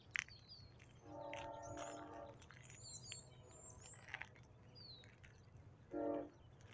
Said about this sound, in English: The only thing that's going on is that train been going nonstop.